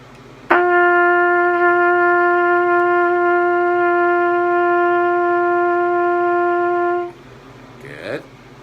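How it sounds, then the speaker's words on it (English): A single sustained open G on trumpet, held steady and loud for about six and a half seconds with a clean attack and cutoff, followed by brief faint noise. "And this is the last note, G open"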